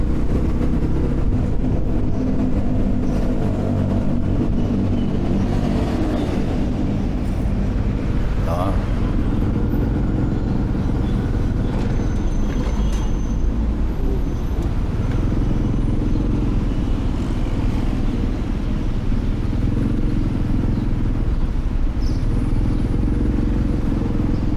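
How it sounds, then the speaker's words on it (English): A motorbike engine keeps up a continuous, fairly loud low rumble for the whole stretch, with faint voices and background noise mixed in. "It's doing motorbike stuff."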